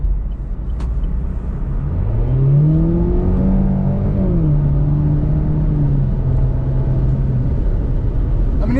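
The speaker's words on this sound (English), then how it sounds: "We're gonna get on the highway again and just see kind of how it accelerates" A four-cylinder Chevy Camaro accelerates on a highway in sport mode, its engine note climbing and leveling through a gear change as a steady road rumble continues underneath.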